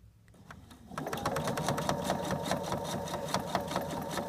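Up close, a sewing machine starts and runs at a steady pace, stitching a quilt block to its sashing with a rapid, even mechanical chatter and hum of needle strokes, fairly quiet with no voices.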